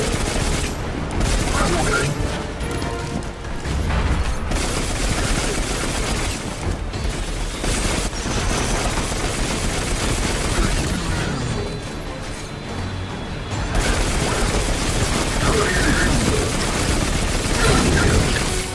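Continuous gunfire from a player's gun in the video game Destiny 2, dense bursts of shots and booms running the whole way through, loud and busy with game effects layered underneath.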